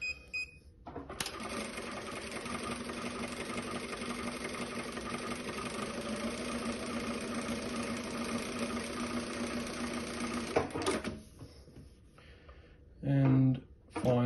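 A JUKI DDL-900C industrial sewing machine stitches in one steady, loud, continuous mechanical whir for about ten seconds, then stops abruptly, followed by a few short beeps or clicks near the end.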